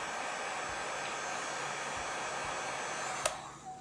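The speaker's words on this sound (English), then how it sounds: "So I'm going to spend a little bit longer with the heat gun on it." A heat gun blows steadily across resin drips on a towel, a continuous broadband airy roar like a hair dryer, close and fairly loud, with a few soft handling knocks near the end.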